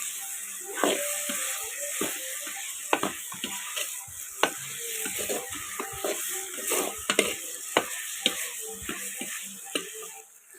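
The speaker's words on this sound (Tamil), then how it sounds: "இப்போ நல்லா வதக்கிக்கலாம்." Brinjal and radish with onion and tomato sautéing in a pan, a continuous sizzle broken by repeated scraping and clicking strokes of a stirring spoon, close and moderately loud, with no talk.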